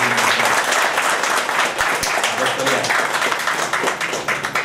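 Loud, sustained crowd applause at a formal gathering welcoming Secretary Waghmare at MIDC headquarters, dense clapping filling the room with some voices mixed in.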